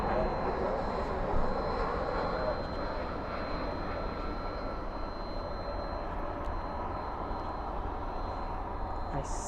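A polka dot livery airliner arriving at DFW airport at night gives a steady, broadband jet roar that holds evenly throughout, moderately distant, with no talk over it.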